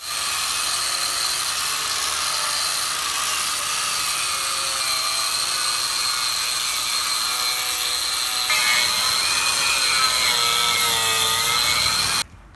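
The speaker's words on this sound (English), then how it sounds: "Got everything grinded out as much as possible. This little machine here." A small handheld grinder works steadily on the rusty frame of a pickup truck for about twelve seconds, a loud continuous high whine whose pitch shifts slightly partway through, then cuts off abruptly at the end.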